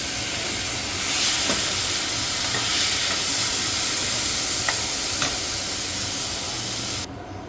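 Grated coconut frying in a pan, a steady close sizzle and hiss with light scraping stirs, continuing without speech until it cuts off abruptly near the end.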